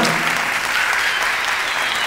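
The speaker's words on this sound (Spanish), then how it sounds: "damos un fuerte aplauso y recibimos a la profesora Liliana Cordera a recibir su merecido certificado" An audience at a ballet event in Maracay claps as a teacher comes up to receive her certificate, giving a continuous, even wash of applause from start to finish.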